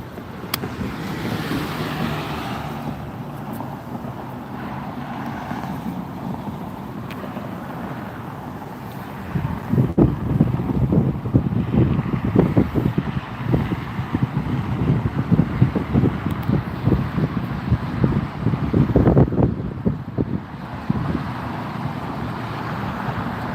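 Steady wind roars across a microphone at an outdoor airport planespotting spot, a continuous rough rumble that grows louder and gustier partway through, with no one talking.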